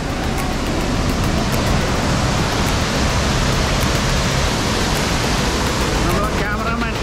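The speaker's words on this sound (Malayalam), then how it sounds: "ഇപ്പോൾ മഴയായതുകൊണ്ട് നല്ല വെള്ളച്ചാട്ടം," Valara waterfall in Kerala, running with strong force in the rainy season, gives a loud, steady roar of falling water that fills the whole stretch without a break.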